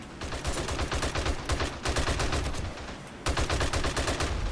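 Gunfire using 7.62 ammunition in the video game 7 Days to Die, heard as loud, rapid automatic bursts, close up and continuous, broken by brief pauses between strings of shots.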